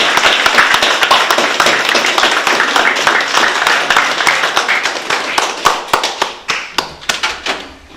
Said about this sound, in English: we'll give them a round of applause for coming to us to start off anyway